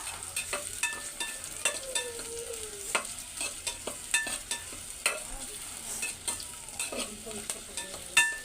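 Onions quickly stir-fried in a pan, with a soft sizzle under frequent sharp clicks and scrapes of a utensil against the pan, sometimes in quick bursts.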